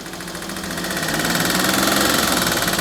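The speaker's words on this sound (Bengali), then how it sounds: "একটু আমি স্টার্ট করে দেখিয়ে দেবো যে কী অবস্থায় রয়েছে এভাবে টোকা টোকা স্টার্ট হয়" A Suzuki Alto car engine catching and running at close range, its rough, slightly knocking drone growing louder and then holding steady for a brief stretch.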